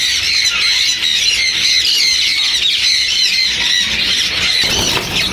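Green ring-necked parakeets squawking in cages at a Sunday bird market in Bahawalpur, a dense, loud, continuous chorus of shrill overlapping calls and squeals.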